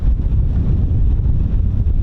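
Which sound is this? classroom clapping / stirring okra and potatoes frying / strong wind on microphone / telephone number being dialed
strong wind on microphone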